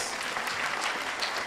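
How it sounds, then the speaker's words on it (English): Brief burst of audience applause at a Kwanzaa celebration, steady close clapping throughout with no voices standing out. "let's give her a round of applause"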